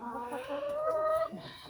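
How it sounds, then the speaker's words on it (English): A rooster in a coop under a newly installed 175-watt heat lamp in -20C cold gives a short, agitated clucking call, fairly close and alone. "The rooster is all like panicked that I put a heat lamp."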